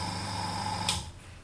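A second small airbrush air compressor running with an even, low hum and faint tonal whine, quiet and close, stopping with a brief click before a short silence.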